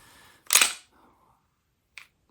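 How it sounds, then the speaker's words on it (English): A Polymer80 PF940C pistol gives a sharp mechanical snap as the trigger is pulled and the slide clicks, followed by a fainter second click about a second and a half later. "So, let's say it's cocked, trigger's forward, you pull the trigger"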